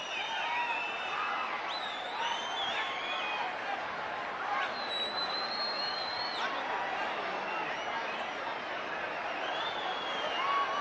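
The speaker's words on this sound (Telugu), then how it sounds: "గట్టిగా చప్పట్లు." A crowd at an outdoor public event in Aspari gives sustained applause that runs steadily throughout, with a few shrill whistles rising above the clapping.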